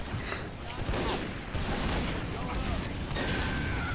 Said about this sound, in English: Actually, a nice headshot there from LAA. Another headshot, actually.